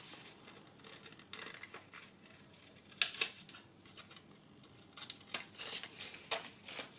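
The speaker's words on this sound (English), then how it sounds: "then we trim those excess bits off" Scissors snip excess paper from a bodice pattern piece, a quiet run of short crisp cuts that comes in irregular bursts and grows busier in the second half, with no voices.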